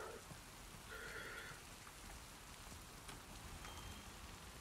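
Steady rain falling in The Last of Us Part II video game, a continuous even hiss of drops on surfaces with no pauses, moderately quiet throughout and heard alone.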